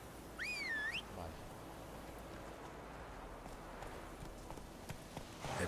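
Horse hooves from The Witcher 3, a soft steady clip-clop of a trotting horse, fairly quiet, with a brief whistle near the start.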